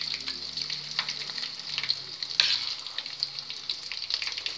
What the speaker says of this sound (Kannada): ಎಣ್ಣೆ ಬಿಸಿಯಾಗಿದೆ, ನಾವಿವಾಗ ಚಿಕನ್ ಲಾಲಿಪಾಪ್ ಬಿಡೋಣ.